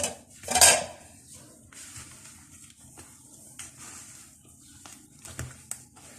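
Utensils clatter against a bowl as chicken and potato cutlet mixture with coriander and green chillies is stirred, with one sharp knock near the start, then softer, intermittent scraping and clinks close by.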